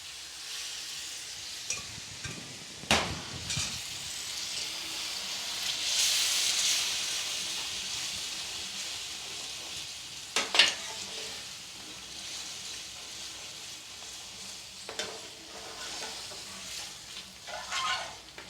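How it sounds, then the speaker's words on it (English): A ladle of hot base gravy hits a pan for a garlic chicken chilli, flaring into a loud hissing sizzle that settles to a steady fry, with periodic scraping and stirring knocks of a utensil against the pan, no voices. "Always add your base gravy hot to the pan. So we'll put in a ladle."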